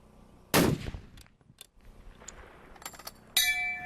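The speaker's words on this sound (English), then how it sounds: "Shot number 4 a hit." A long-range rifle shot fired at a distant target: one loud, sharp report near the start that decays quickly, followed by quiet background, faint clicks and a second sharp burst near the end.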